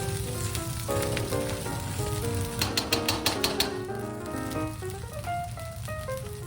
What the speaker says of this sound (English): So the edamame will just sort of cook in the hot pan